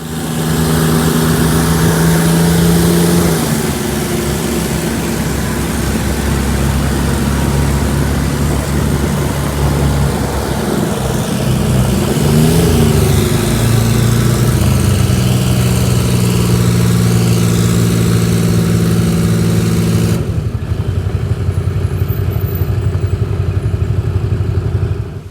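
Eagle bus with a Detroit Diesel 6V92TA two-stroke engine that is losing power and has an exhaust leak, running steadily at a close, loud idle with a brief change in pitch partway through before cutting off near the end.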